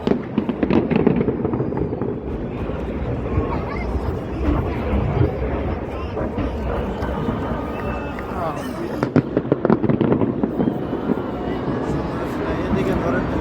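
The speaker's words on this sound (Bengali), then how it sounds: "এখন দেখবেন অনেক বাজি মানুষ একসাথে উড়াবো।" Many fireworks set off together at once, a dense continuous crackle of pops and bangs with sharper bursts near the end, loud and close, with people talking over it.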